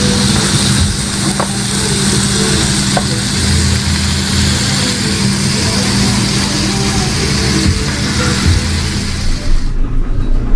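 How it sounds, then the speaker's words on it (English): Seasoning sautéing in a thin layer of oil in a pan, a loud, continuous close-up sizzle with a low rumble underneath, holding steady before cutting off at the end. "I spread a little oil in the pan. I'm gonna saute my seasoning."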